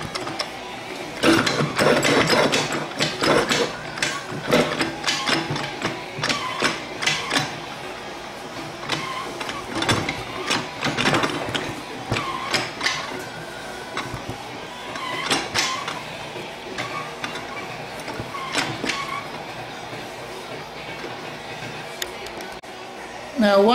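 Clutch tangs inside a TH350 automatic transmission slide into the sun gear during a rebuild. Hard, close metallic clicks and ratcheting scrapes repeat irregularly throughout with no speech.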